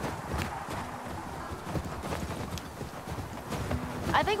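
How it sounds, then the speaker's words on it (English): Horse hooves galloping in The Last of Us Part II, a steady rapid clip-clop running throughout at close range, with faint game ambience and a brief higher sound near the end. "Okay, horse. Let's go."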